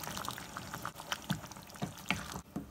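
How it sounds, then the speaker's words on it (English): Tomato puree poured into a pan of coconut chicken curry, with wet plops and splatters over a soft sizzle, close and moderately quiet. "Let's add the tomato puree."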